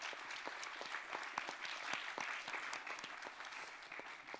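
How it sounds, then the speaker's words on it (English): Audience applauding a final panel at a science diplomacy forum, steady dense clapping from a room of people, fairly faint and distant, sustained throughout without talk. "A round of applause for our final panel."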